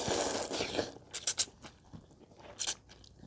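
Chewing thick, firm instant noodles close up, with soft wet crunches and a few sharper bites, no talking.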